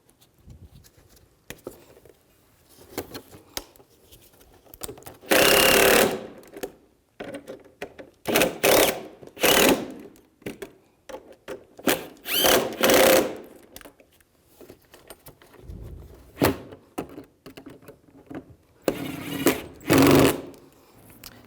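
Bumper cover fasteners on a 1998-2010 Volkswagen Beetle are driven tight with a power tool in several loud rattling bursts of a second or so each, separated by quieter handling noises and pauses.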